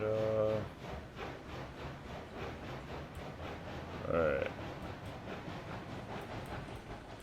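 A locomotive pulling forward in RailRoads Online, with a steady rumbling chug and rail clatter, a brief whistle-like tone partway through, and someone speaking a word at the start.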